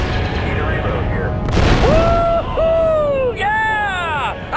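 An explosion booms in Star Wars Republic Commando: a heavy low blast swells amid gunfire and battle noise, with sweeping electronic tones and chatter layered over it.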